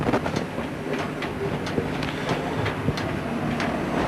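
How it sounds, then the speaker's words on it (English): Train running past Llwyngoryl station on the Cambrian Coast line near the 95¼ milepost, steady rumble with rhythmic wheel clicks and periodic sharp rail knocks, moderately loud and continuous with no talk. "Now passing through Llwyngoryl station."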